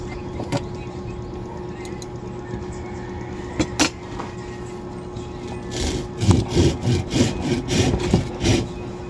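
A dull hand saw rasps through fresh hibiscus bonsai wood in a quick series of strokes after a few scattered knocks and scrapes, close and fairly loud.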